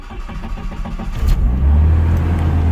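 A Jeep MJ Comanche engine cranks briefly and then fires, settling into a loud, close, steady low rumble that holds to the end.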